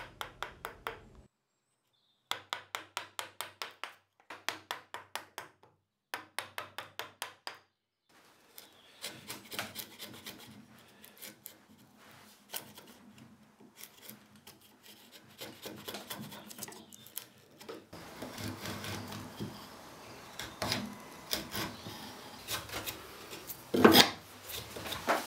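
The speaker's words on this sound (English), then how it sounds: "I used a sharp chisel with a flat back to flatten the inside or the base" A sharp flat-backed chisel pares the base of a mortise in 2x4 wood for a workbench: quick bursts of short scraping strokes, then a longer stretch of steady rasping with a few louder scrapes near the end.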